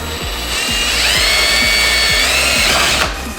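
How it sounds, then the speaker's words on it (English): A power drill with a 3/32 bit whirs loudly and steadily, close by, as it bores a small mounting hole for a BMW M3 intake, with a faint rhythmic knocking beneath. "I'm gonna take my drill. This is a 3/32 bit, I believe."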